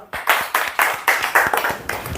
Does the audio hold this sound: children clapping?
yes